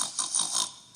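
A human voice imitates a pig's oink in one short, nasal, rough grunting burst with a few pulses, alone and close.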